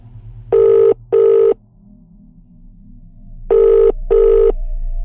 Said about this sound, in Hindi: उसके फ़ोन से अपना नंबर मिलाया